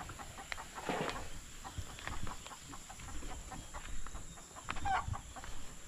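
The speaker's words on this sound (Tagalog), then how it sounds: "Ang manok yung parang Torn James, oh" Chickens cluck in scattered bursts nearby, with soft outdoor background noise and no talking.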